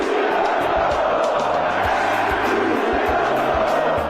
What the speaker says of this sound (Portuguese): foi ovacionado pela torcida antes mesmo da bola rolar